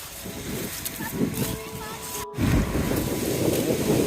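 Lake waves break against a rocky Swedish shoreline in strong wind. The surf rushes in broad, repeated surges mixed with gusty microphone wind noise, briefly drops out, then returns louder, with some talk underneath.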